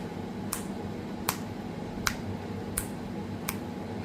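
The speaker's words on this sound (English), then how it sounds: "That's how well I could snap my fingers with this." Five sharp left-hand finger snaps, evenly spaced about three quarters of a second apart, each a crisp close click over a steady low room hum, no talking.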